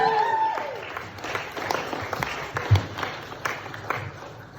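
A crowd applauds and cheers in a lively stand-up comedy room, the clapping sustained and uneven, with scattered voices and whoops mixed in.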